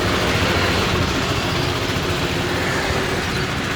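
A Sym GTS 250i scooter engine runs steadily and close by, a continuous rumbling drone with a dense broadband roar and no pauses, heard alone without talk.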